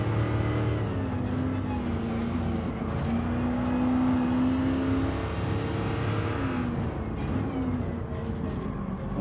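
An older car's engine revs and drones steadily in Gran Turismo 7, its pitch rising and falling in long sweeping pulls, loud and continuous throughout.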